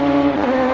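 Radical SR3 XXR race car engine in Assetto Corsa, a steady high-pitched drone held at near-constant revs for under a second, close and loud with no talk.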